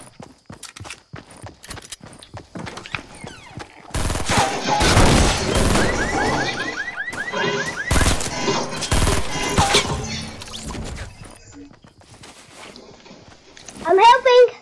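Gunfire from other players in the video game Fortnite, with bursts of shots and machine-gun fire in the middle stretch of the match, alongside footsteps and other game effects, while someone talks over it.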